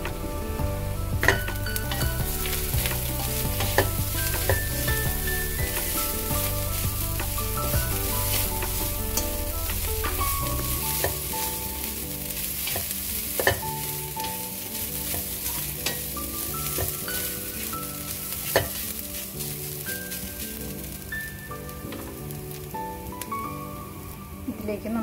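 Coconut, chili powder, turmeric, cumin powder and salt sizzle and fry in a pan under steady stirring and scraping, close and continuous, with soft background music.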